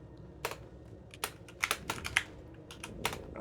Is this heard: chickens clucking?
no